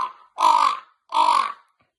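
A big crow flying over a wide meadow gives two loud, harsh caws about half a second apart, each a rasping burst, close and clear with silence around them and no talking.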